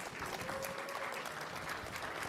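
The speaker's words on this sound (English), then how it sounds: "A round of applause." An audience at a cybersecurity conference in Atlanta applauds a prize winner, a continuous, fairly distant patter of many clapping hands with a faint tone running through it.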